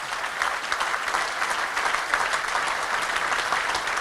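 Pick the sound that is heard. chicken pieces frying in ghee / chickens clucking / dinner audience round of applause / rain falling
dinner audience round of applause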